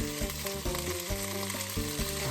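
Mixed vegetables, including sweet peppers and cabbage, stir-fried in a pan for a healthy dish, giving a steady close sizzle with a few tossing bursts throughout, no voices.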